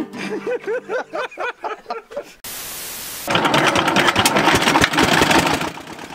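A boat engine on a river near Sylhet coughs into life after a brief burst of noise and then settles into a steady, loud running drone. Voices can be heard at the start, before the engine starts.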